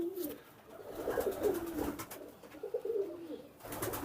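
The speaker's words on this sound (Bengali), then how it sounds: "ইন্ডিয়ান কালদম যারা পছন্দ করেন তাদের জন্য এই পায়রাটা দেখাচ্ছি" An Indian Kaldum high-flying pigeon coos in soft, repeated low phrases, close by, with a faint rustle in the background.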